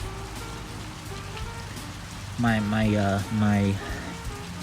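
Rain pours steadily during an outdoor workout, a constant close patter, while a person speaks briefly in the middle.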